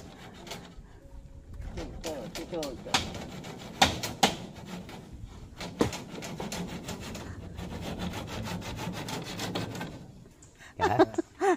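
A hand saw cuts through wood with steady rasping back-and-forth strokes, fairly close, while voices are heard now and then, with a few sharper knocks near the end.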